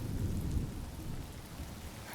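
Steady heavy rainfall with a low rumble of thunder in a Honkai Star Rail game scene, a dense continuous wash of sound that is fairly quiet and carries no talking.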